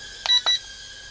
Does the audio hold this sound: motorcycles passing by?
no